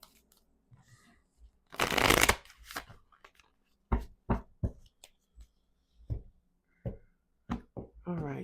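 A deck of major arcana tarot cards being shuffled, starting with one long riffle, then a string of sharp, separate card slaps and taps, close by, with a soft voice now and then.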